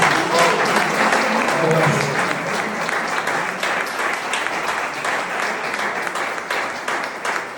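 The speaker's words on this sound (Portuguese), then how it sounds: "merece uma salva de palmas" Congregation at a church testimony claps in a long, full round of applause, dense and steady, with a voice faintly audible under the clapping as it slowly tapers.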